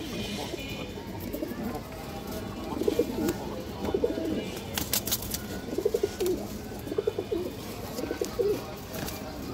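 Old-bloodline racing pigeons coo in repeated soft, throaty phrases close by, with occasional chirps and light rustling in between, over low background noise.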